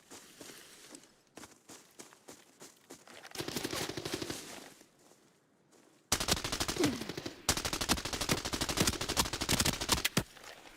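Rapid video-game gunfire in an airport setting, bursts of automatic shots crackling in quick succession, quieter for a few seconds then louder and denser through the second half, with no talk.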